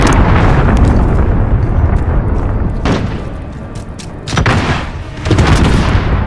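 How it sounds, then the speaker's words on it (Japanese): A missile launches and explodes in Call of Duty: Modern Warfare amid a loud, dense barrage of booming blasts and rumbling bursts, with repeated sharp explosive hits and no talk. "ミサイルを発射した。"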